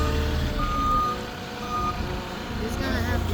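A soil delivery truck reversing near a garden, steady repeated beeps under idling engine rumble and a nearby voice talking.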